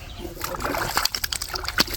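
A small ball of corn bait lobbed into open water while fishing at Rietvlei, landing with a close splash followed by a few scattered drips and sloshes against steady outdoor background noise.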